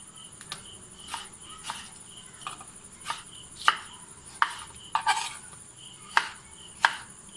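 A knife chops tomatoes into small pieces on a board, about a dozen sharp separate cuts at an uneven pace, over a steady high insect-like buzz in the background.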